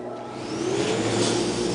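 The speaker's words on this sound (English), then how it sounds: "Now I'll turn on the dust collector" A workshop dust collector whirs up and settles into a loud, steady roar with a rising motor tone, close by and running alone without talk.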